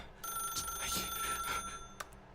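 A telephone rings in the video game The Stanley Parable: Ultra Deluxe, a steady electronic trill heard alone and fairly close for a couple of seconds.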